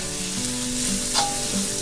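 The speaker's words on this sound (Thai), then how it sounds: "เมื่อผัดจนหอมได้ที่ดีแล้วให้เราใส่หอมแดงลงไปค่ะ" Finely sliced shallots stir-fry in a hot pan with oil, giving a brief, steady crackling sizzle and soft stirring scrapes close by.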